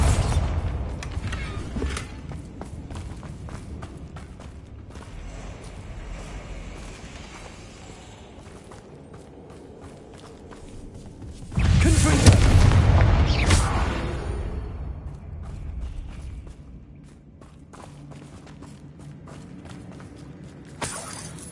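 A Bombarda explosion spell goes off in the video game Hogwarts Legacy as a single heavy boom midway. Faint footsteps, creaks and game ambience sit before and after it.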